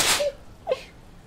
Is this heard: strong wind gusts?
no